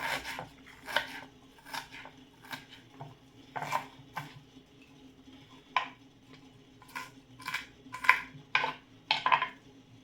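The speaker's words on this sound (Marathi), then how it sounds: "आता मी याला बारीक कापून घेते मस्त छान" Knife chopping onion and coriander finely on a board in a home kitchen: a run of quick, crisp taps in irregular bursts, close and moderately quiet, with no talking.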